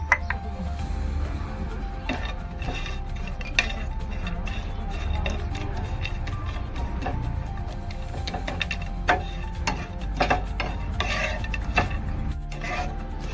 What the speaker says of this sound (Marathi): खोबरं भाजूया.